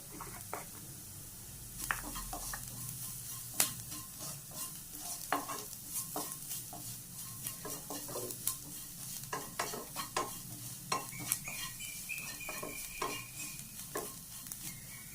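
Onions sauté with salt and pepper in a pan under a soft continuous sizzle, broken by repeated scraping strokes of a spoon stirring, each one close and distinct.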